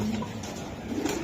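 Racer pigeons at a club loft, birds in molt, give soft low coos, close and brief, over a continuous background hum.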